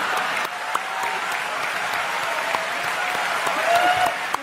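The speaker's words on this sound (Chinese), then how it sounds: "让台下大陆香港明星瞬间拍手叫好" A studio audience of mainland and Hong Kong celebrities at a show breaks into sustained applause, a loud, even roar of many hands clapping together that continues without pause through the whole stretch.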